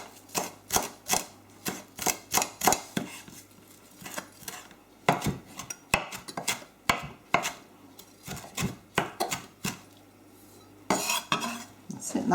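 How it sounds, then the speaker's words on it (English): Fresh parsley roughly chopped with a knife on a board, producing quick rhythmic thuds in bursts with short pauses, close and clear with no talking. "I think there's nothing like fresh parsley. So just roughly chop that."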